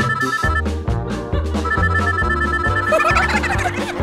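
A misplaced mobile phone ringing nearby, a looping ringtone melody with a steady beat and repeating bright tone, loud and continuous throughout with no speech over it.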